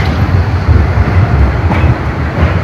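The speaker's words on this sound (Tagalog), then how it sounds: "May train na naman." A train rumbles loudly past at close range in Zürich, with a heavy low roar and rolling wheel noise throughout, and no talk.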